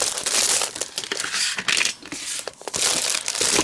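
Sheets of paper from a craft paper pack are grabbed and handled close up, with loud crinkling, crumpling and rustling bursts over a few seconds and no talk.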